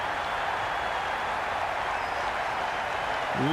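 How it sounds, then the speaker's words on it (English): Stadium crowd in the cricket video game Cricket 22, a steady wash of distant cheering and applause at even level throughout, with a faint bat-like knock near the end. "Will you listen to the crowd? They are loving it."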